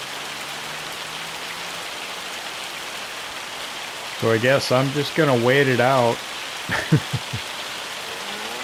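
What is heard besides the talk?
hail storm in the video game Farming Simulator 25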